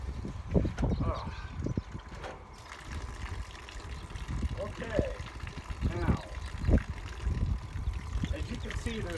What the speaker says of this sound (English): as you can see, there's water pouring down there